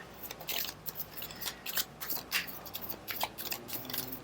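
Rapid papery riffling and snapping of tarot cards being shuffled in quick bursts, close and crisp, with no talking.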